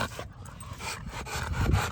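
A young, one-year-old female working dog makes restless close-up sounds, faint panting and whimpering under steady background noise, with no voices.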